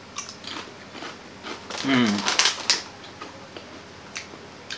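Crisp crunching bites of thin, crispy Potabee seaweed potato chips with Japanese nori flavor, a short burst of sharp crackles close to the mic, with a voice speaking briefly nearby.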